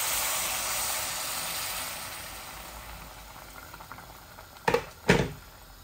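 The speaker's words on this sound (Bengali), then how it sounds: "আমি কেটলের পানি দিচ্ছি" Hot water from a kettle poured into a pan of fried vegetables sets off a loud, steady boiling hiss that slowly fades, followed by two sharp knocks near the end.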